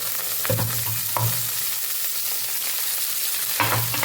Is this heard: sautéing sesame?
yes